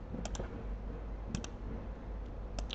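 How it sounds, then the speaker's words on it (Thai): Mouse buttons click in CAD structural design software, a few sharp paired clicks spaced across a steady background hum. "คลิก"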